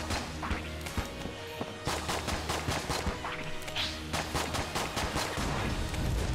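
Rapid gunfire and crunching impacts from the game Enter the Gungeon fill the space, volleys of sharp shots and smashes firing in quick irregular bursts with little pause.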